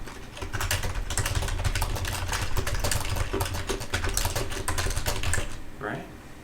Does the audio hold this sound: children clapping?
no